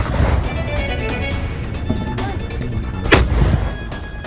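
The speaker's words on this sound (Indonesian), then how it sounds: "Serangan artileri Thailand di perbatasan juga dilakukan di siang hari." Thai artillery fire along the Cambodian border during daytime fighting, heard as a steady rumbling din of distant booms with one sharper, louder blast near the end.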